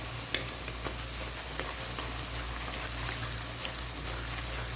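Onions frying in a pan for mixed vegetable sabzi give a steady, dense sizzle with occasional small pops and crackles, continuous at moderate level throughout.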